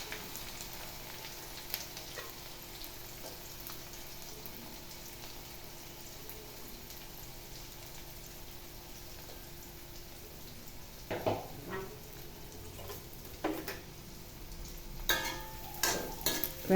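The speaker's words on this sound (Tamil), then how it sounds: "வெங்காயம் கொஞ்சம் ஃப்ரை ஆகட்டும்." Steady sizzling of chopped onions frying in a pan, with occasional stirring clatters and scrapes growing louder toward the end; no voices.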